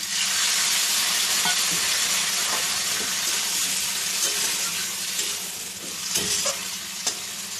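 Potatoes and okra frying in fish oil in a pan sizzle loudly and steadily, with occasional stirring scrapes and clinks as a little water goes in, close up and without talk.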